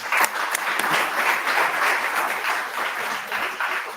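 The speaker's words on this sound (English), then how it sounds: "So one clap for her also." An audience claps for the anchor at a holistic health and AYUSH panel event, a brisk, fairly close burst of many hands that holds steady for a few seconds.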